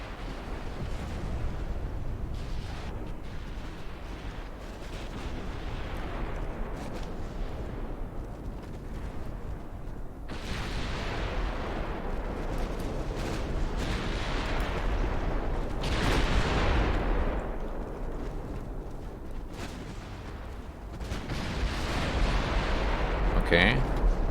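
Naval guns of a British 1900-era fleet in the warship game Ultimate Admiral Dreadnoughts boom repeatedly at sea, deep rumbling salvos rising and fading over a constant roar of battle ambience, with a voice talking faintly underneath.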